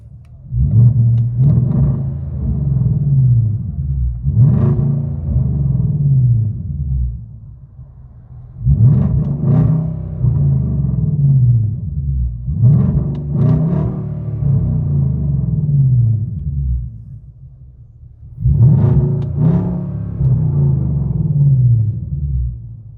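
A deep V8 engine rumble from a 2012 Hyundai Genesis 4.6-liter sedan with Dynomax Bullet mufflers, heard from inside the car, swells in four repeated revs, each rising and then settling back to a low steady idle.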